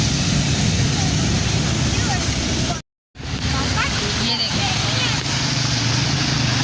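Heavy rainwater rushing across a flooded road in Lahore during a downpour, a steady broadband wash that holds throughout, briefly cut out once, with someone speaking over it.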